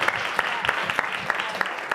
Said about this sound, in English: One more round of Thank applause for